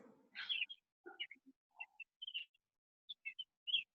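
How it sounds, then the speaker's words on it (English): Scattered bird calls sound outdoors during a virtual art celebration: short chirps and whistles in irregular bursts, fairly faint and clear, with no talk over them. "I hear beautiful birds."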